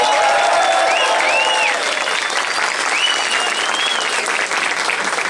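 Audience applause at a live concert in a FNAC store, a dense steady clapping that fills the room and stays loud throughout, with faint cheers or whistles mixed in.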